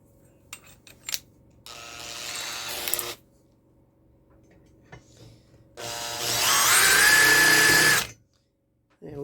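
A power drill bores a hole in an elevator chassis in two bursts: a short whirring run, then a longer, louder one that ends abruptly, with quiet clicks and handling noise between.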